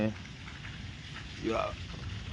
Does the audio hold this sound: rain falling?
yes